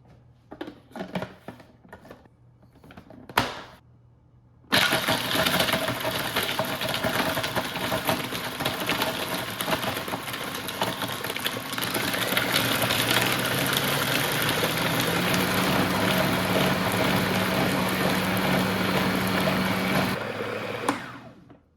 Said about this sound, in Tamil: வெட்டி வச்சிருக்கிற மேங்கோஸோட சுகரையும் ஐஸ் க்யூப்ஸையும் ஆட் பண்ணி ஸ்மூத்தாக வரும் வரைக்கும் பிளெண்ட் பண்ணிவிடுங்க